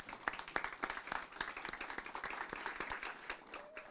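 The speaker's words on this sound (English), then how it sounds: "A big round of applause for them." A crowd at a city council meeting claps in a scattered, steady patter of applause, fairly quiet and at a distance.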